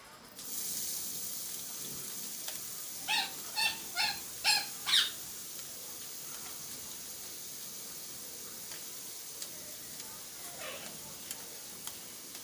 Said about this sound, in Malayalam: ഈ മിക്സ് ചെയ്തേക്കുന്ന വഴുതനങ്ങ കൂട്ട് നമുക്ക് ഈ കടായിലേക്ക് ഇട്ട് കൊടുക്കാം.